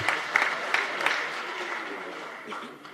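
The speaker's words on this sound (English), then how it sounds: "Not many claps here, the clapping this side." A church congregation claps in a short scattered burst at a diocesan gathering, several distinct claps early on fading into murmuring crowd noise and talk.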